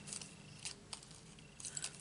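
Scissors snipping through a strip of adhesive craft gems, a few quiet close cuts spaced out over a couple of seconds with faint light rattling between them.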